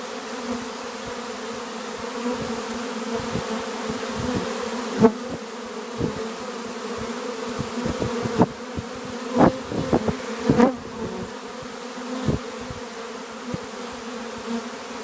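Honey bees swarm around a bait hive with a mesh-covered lid, a dense, steady, close buzzing drone that continues throughout, with occasional louder passes as individual bees fly near.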